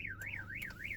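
A 2020 Volkswagen Polo's factory alarm wails in a rapid rising-and-falling siren, loud and close, cycling about three times within a second with faint clicks underneath.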